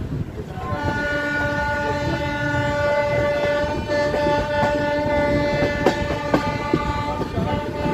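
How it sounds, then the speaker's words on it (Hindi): Gorakhdham Express pulling out of Basti station, with a sustained multi-tone train horn sounding over steady rail rumble and faint wheel clatter, loud and close throughout. "अभी हमारी ट्रेन डिपार्ट कर चुकी है बस्ती स्टेशन से"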